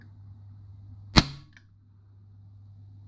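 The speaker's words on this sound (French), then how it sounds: "on va décharger en fin de compte la quantité d'air que j'ai mis dans la chambre pour un tir" A PP750 air pistol firing a single shot, one sharp, loud crack with a quick decaying tail and a faint click after it, against a quiet background hum.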